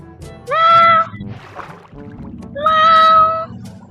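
Two drawn-out cat meows in Minecraft, loud and close, separated by a short pause with faint background noise.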